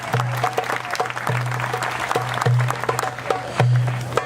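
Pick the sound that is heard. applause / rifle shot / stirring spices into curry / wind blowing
applause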